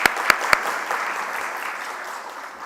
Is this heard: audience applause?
yes